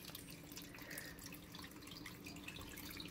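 Water runs steadily into a garden pool pond where fish gather near the current, a constant close splashing and trickling wash with no voices.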